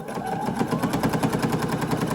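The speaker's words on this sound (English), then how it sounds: "Now we're sewing down the cuff, and we want to make sure that we back stitch over the straps." A sewing machine stitching a tote bag seam, a steady rapid mechanical whirring with an even pulsing rhythm of needle strokes, close and continuous, no talking.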